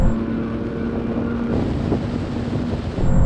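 A BMW M3 Touring's engine drones steadily under hard acceleration in a drag race against an M340i, a loud sustained tone heard from inside with wind and road roar around it.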